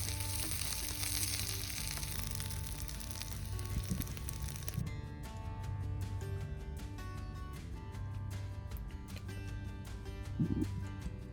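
Ginger and curry leaves sizzle and crackle steadily in a hot pan, a busy frying hiss with occasional stirring clinks, close and moderately loud, no talking.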